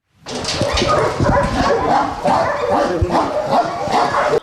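Many dogs at an animal shelter barking, yipping and whimpering together in a loud, continuous, overlapping chorus that fills the whole stretch.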